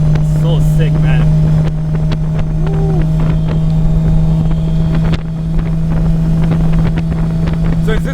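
A straight-piped 750HP Nissan R32 Skyline GT-R with a sequential gearbox being driven, its loud steady engine drone heard from inside the car under wind buffeting, with brief voices in the cabin.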